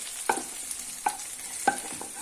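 Rice with fried vermicelli and oil is stirred in a frying pan for a chicken dolma filling: three distinct scraping strokes over a gentle sizzle, close and clear, with no voices.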